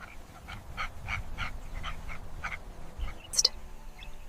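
A pack of African wild dogs calls on the savanna near cheetah cubs, a series of short, evenly spaced yelping calls about twice a second over steady background noise, followed by one sharper, louder yip.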